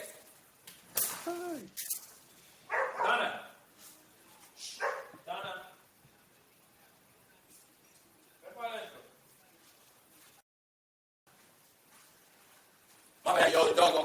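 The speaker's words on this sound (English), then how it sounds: "the dog going crazy" A dog barks in repeated sharp bursts, loud and close, mixed with someone talking indoors; a final flurry of barking comes near the end after a short quiet gap.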